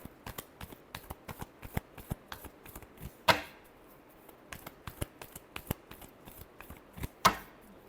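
Tarot cards are shuffled by hand in a steady run of crisp riffling slaps and flicks. Two sharper, louder snaps land partway through and near the end, with no talking.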